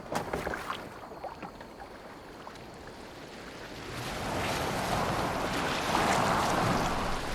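A Viking longboat moves across open water in the game Assassin's Creed Valhalla, with a steady rushing wash of waves and wind that swells louder partway through, and no talk over it.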